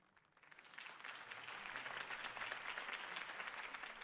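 A crowd applauds after a campaign speech in a Batman video game, a dense, sustained wash of clapping that swells in and holds at moderate volume.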